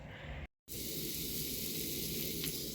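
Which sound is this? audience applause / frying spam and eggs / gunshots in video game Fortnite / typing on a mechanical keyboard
frying spam and eggs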